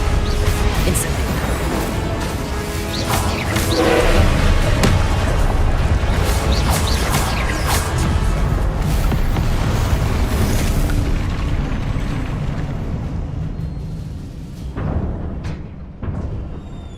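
Incendio fire spell blasts in the video game Hogwarts Legacy: continuous loud booming, roaring fire bursts and crashes that keep going throughout, then ease into a few scattered pops near the end.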